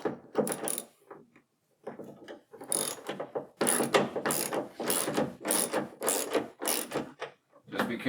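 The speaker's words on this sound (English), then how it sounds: "Just be careful if you're using a wrench like I am here" Ratchet wrench tightening a bolt on a Ram Promaster 118 WB camper van build, rapid clicking bursts in quick repeated strokes with brief pauses, close and fairly loud.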